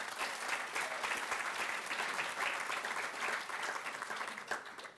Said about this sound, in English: how about a round of applause for Takashi?